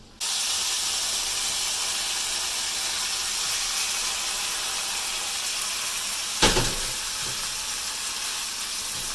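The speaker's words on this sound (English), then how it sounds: "now we're going to divide the chicken between these two pans and cook it on a slightly higher flame." Steady broadband sizzle of chicken frying in a hot pan, constant hiss throughout with a brief louder crackle burst near the end; no talking.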